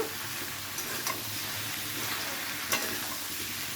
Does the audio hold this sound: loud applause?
no